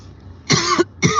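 Two short, dry coughs with a pause between them, close and fairly loud against a quiet room.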